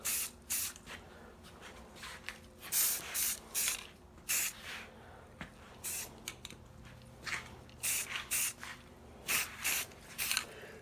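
Short bursts of aerosol spray paint hissing from a can onto wargaming terrain platforms, repeated in an irregular rhythm of quick and longer sprays, close by.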